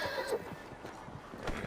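A horse neighs close by with a loud, rough whinny. Faint hoof clatter sounds under it, and no one speaks.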